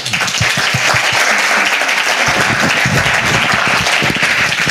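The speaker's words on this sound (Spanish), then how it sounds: "Un aplauso grande." Loud, full applause from the audience at the close of a talk in a lecture series, many hands clapping densely and steadily for several seconds with no speech on top.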